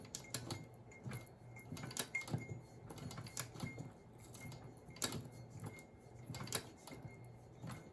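A leather sewing machine stitching a brown shark leather wallet, run by hand without the motor, giving irregular clacking and ticking mechanical bursts at close range over a faint hum.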